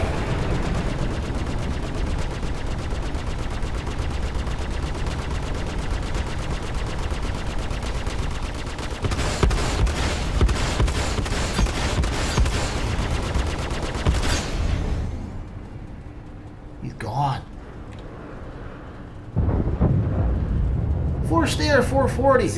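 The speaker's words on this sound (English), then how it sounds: "Yeah, you guys keep shooting. I'm sure eventually you'll hit with your machine gun laser" Enemy ships in the Star Citizen space dogfighting game fire machine gun lasers in long continuous rapid bursts. The volleys run loud over engine rumble and then break off into quiet, and someone talks over them.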